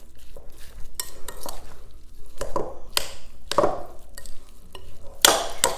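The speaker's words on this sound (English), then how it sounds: "I start with a spoon and then I get in there with my hands." A spoon works through meatball mixture in a bowl for Asian spaghetti and meatballs, giving repeated wet scraping and clacking strokes against the bowl in an irregular rhythm, close and fairly loud, with no talking.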